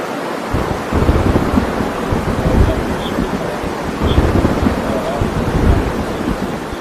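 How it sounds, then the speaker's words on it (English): A small storm with strong winds in Brooklyn, New York roars as dense, continuous buffeting noise with rumbling gusts, loud and close throughout and without clear speech. "A small storm brought strong winds to Brooklyn, New York on July 25th, knocking down trees and damaging houses"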